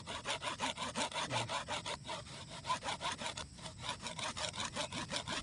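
A hand saw rasps steadily through a moringa branch, quick back-and-forth strokes in a fast even rhythm, close and fairly loud with no talking.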